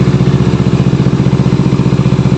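A 2013 Kawasaki Ninja 250 motorcycle engine idles loudly and steadily up close, its even rapid chugging pulse running throughout without any change in pace.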